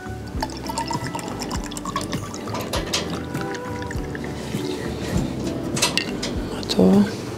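Liquid pours and splashes steadily into a container with gurgling and dripping, while faint voices and clatter sound in the background.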